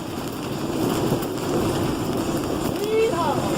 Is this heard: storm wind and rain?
yes